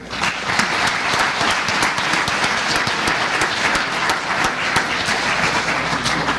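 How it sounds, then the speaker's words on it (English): An audience at a school board meeting gives a steady, dense round of applause for a middle school state meet placer, loud and continuous throughout, with many hands clapping close by. "Another nice round of applause while we take a picture up here."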